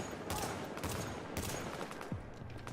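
Rhino Special gun in The Division video game fires repeated bursts of shots over continuous background music, with loud broadband cracks clustered near the start and again midway, plus a brief reload-like clatter near the end.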